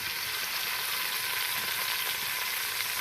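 Onions fry in hot ghee for a Pakistani-style chicken pulao, producing a constant, even hiss of sizzling at moderate volume.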